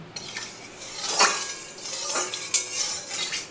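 Metal utensils clink and scrape against a cooking pot as jute leaves (pat shak) are stirred, a few sharper knocks standing out over a steady clatter at close range, with no voices.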